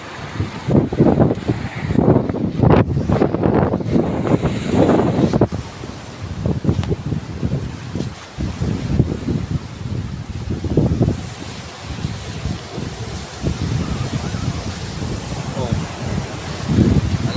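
Steady roaring wind buffets the microphone while high surf rumbles underneath on Burias Island during a strong amihan monsoon with a low-pressure area; voices talk intermittently over the blustery noise.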